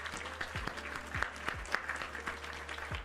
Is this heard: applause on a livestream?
yes